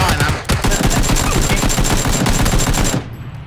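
Video game gunfire rattles in rapid automatic bursts, loud and close, then cuts off abruptly near the end.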